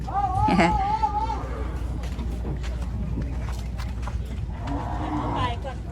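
Thai native cattle moo at a busy cattle market, with a loud, close low call at the start and another later on, over steady crowd noise, shuffling and people talking.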